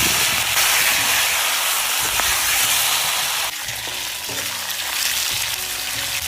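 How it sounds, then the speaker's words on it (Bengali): Stingray fish pieces fry lightly in oil, giving a loud, close, steady sizzle broken by stirring scrapes and the pieces being turned. "হালকা ভাইজে নিচ্ছি"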